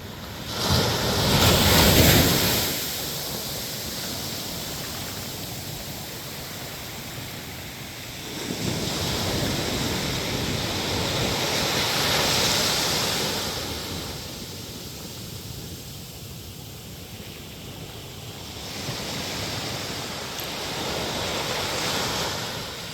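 Sea waves wash onto an undeveloped beach in repeated broad surges about every few seconds, close and fairly loud, with wind buffeting the microphone between swells.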